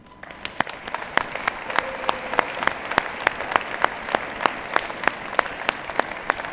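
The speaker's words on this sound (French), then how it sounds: "Ils méritent vos applaudissements." At a New Year's address in Morangis, a sparse audience claps at a lively, regular pace, each sharp hand clap standing out distinctly over a soft background murmur.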